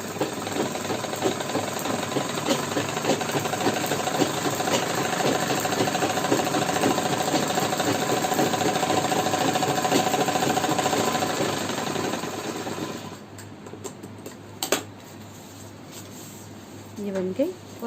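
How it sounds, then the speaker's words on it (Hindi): A sewing machine stitches a Patiala salwar, a continuous fast mechanical whirring and rattling that runs close and steady for about thirteen seconds, then stops, leaving a few faint clicks and handling noises. "फिर हम यहाँ से एक सिलाई और लगाएंगे।"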